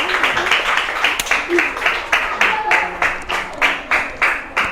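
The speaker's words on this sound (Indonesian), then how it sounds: "Mana tepuk tangannya?" Classroom children applauding after a class performance, a steady run of rhythmic claps with regular bursts, moderately close, with voices mixed in.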